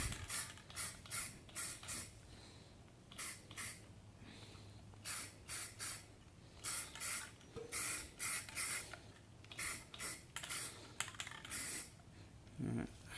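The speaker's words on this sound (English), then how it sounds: "it is just spray painted with a rattle can" Rattle can spray painting on a Nissan 240SX convertible: repeated short hissing bursts of spray in an irregular rhythm, close and loud, with faint clicks and low background noise between bursts.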